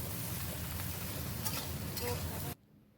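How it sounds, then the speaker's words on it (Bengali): Okra (lady's finger) fries in a pan with salt over a low flame, giving a steady, close, hissing sizzle that cuts off abruptly near the end. "আমি শুধু নুন দিয়ে ভিন্ডিটা লো ফ্লেমে একটু ভেজে নেব"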